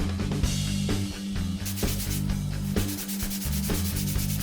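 Oak and mahogany wood necklaces being power sanded, a steady abrasive rubbing and grinding that runs continuously and loud, with rhythmic pulses from the sander and a low humming drone underneath, no talking.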